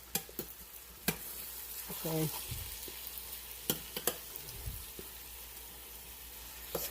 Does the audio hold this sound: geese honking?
no